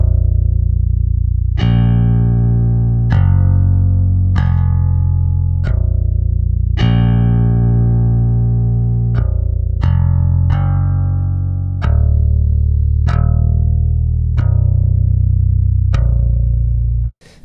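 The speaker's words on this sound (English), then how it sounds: "Then we've got a slightly pushed clean amp sound" Bass guitar played through a slightly pushed clean amp, picked with a thin pick for a djentcore-style part: a run of loud, sustained low notes with sharp plucked attacks, played alone and cutting off abruptly at the end.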